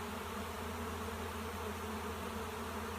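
A large honeybee swarm clusters in a tree, giving a steady, dense buzzing drone that stays fairly faint and continuous throughout, with no talking.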